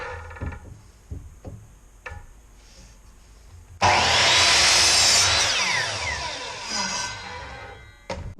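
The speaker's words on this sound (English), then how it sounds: "We're going to start by cross-cutting our 2x4 to 12 3/16 inches long." Cross-cutting a 2x4 for a Langstroth-style hive frame: a few faint taps and knocks, then a loud power saw bites into the wood at about four seconds, whining steadily for several seconds before winding down near the end.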